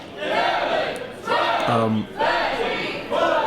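A wrestling crowd chants in unison during a long-held suplex, loud rhythmic shouted counts rising and falling in waves, with a brief tonal sound partway through.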